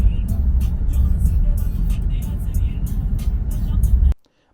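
A car on a test drive gives a steady, loud low engine and road rumble from inside the cabin, continuous for a few seconds before cutting off abruptly.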